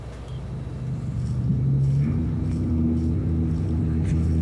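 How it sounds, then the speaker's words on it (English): A low rumble from a heavy vehicle swells in and holds steady outside, muffled and droning. "Sounds like a truck outside your..."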